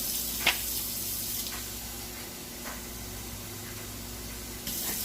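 Water runs steadily from a tap into a pan in a kitchen, a soft continuous hiss broken by a few brief clinks. The sound is fairly quiet, with no voices.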